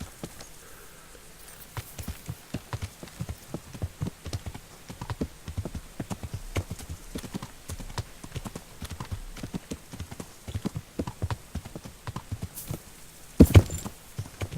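Horse hooves clip-clop at a steady trot in the medieval video game Kingdom Come Deliverance, a continuous close rhythm of hoof strikes with a louder thump near the end.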